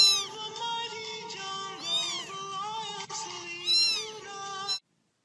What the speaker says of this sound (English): No, get this cat out of here!